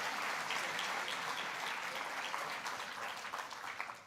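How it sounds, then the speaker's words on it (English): An audience at a political speech breaks into sustained applause, a dense, even wash of clapping that carries steadily throughout without a voice over it. "you must give some round of applause."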